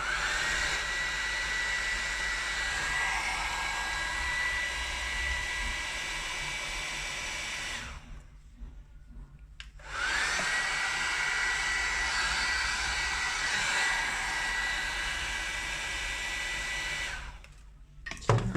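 A hair dryer blows air onto wet TransCast resin in a steady, loud whirring rush, switched off for about two seconds midway, then running again until it cuts out near the end.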